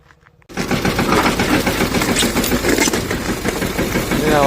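A farm machine sows chickpeas in a field, its engine starting abruptly after a brief quiet moment and then running loud and steady with a rough, rattling chug throughout.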